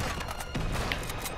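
Gunfire rattles through an Uncharted shootout, with several sharp shots scattered over a continuous loud wash of game noise and no speech over it.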